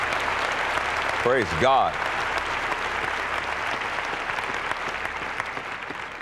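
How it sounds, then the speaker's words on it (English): A church congregation claps steadily and heavily throughout during a Sunday service, with a brief spoken exclamation near the start rising over the applause. "would you give the Lord a big hand clap of praise?"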